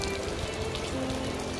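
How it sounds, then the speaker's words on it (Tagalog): Steady rain falling during a boat trip from town to the dockyard in Bermuda, a constant close hiss of drops pattering on surfaces with no talk. "Maliban sa ulan, wala nang iba."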